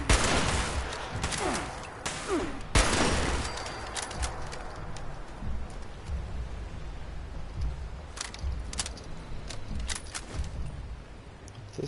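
A weapon fires in the video game Fallout 76, loud sharp shots early on followed by scattered lighter bursts and clicks over a busy background, with no talking.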